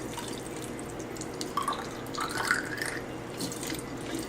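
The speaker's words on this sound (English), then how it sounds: "So just rinse them out thoroughly." Tap water rinsing ink cartridge pieces in a kitchen sink, a steady splashing trickle with a few brief higher drips and clinks in the middle, no talk.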